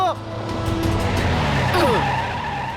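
A car brakes to a stop with a drawn-out tire squeal over a steady engine hum, close and fairly loud, with voices speaking over it.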